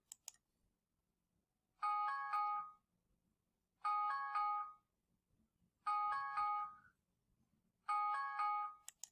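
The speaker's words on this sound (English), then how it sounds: "you have option to tap to sound an alarm on your cell phone" A phone alarm rings in four evenly spaced electronic chime bursts, clear and close, with near silence between each.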